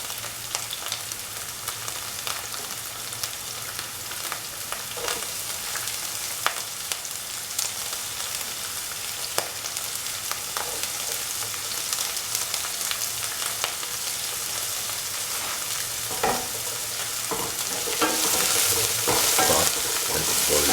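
Onions frying in a pan for a dry shrimp tomato roast, with a steady sizzle and repeated scraping stirs of a utensil throughout, growing slightly louder toward the end.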